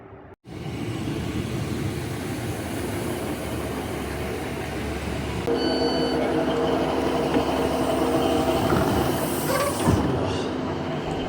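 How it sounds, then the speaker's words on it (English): A train rumbles steadily and grows louder as it approaches, with a sustained tonal hum and brief squeal near the end; no one speaks. "oh, my train's coming."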